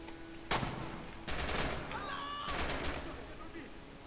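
A grenade blast and bursts of rifle fire from the Red Orchestra 2 video game. There is a sharp explosion, then rattling volleys of gunfire with overlapping shots, all heard close and loud.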